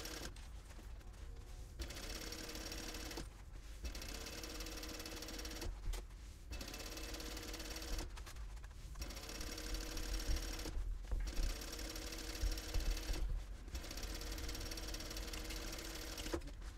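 A sewing machine stitches the seams of a fabric packing cube in long steady runs of rapid mechanical chatter, broken by several short pauses, loud and close with no talking.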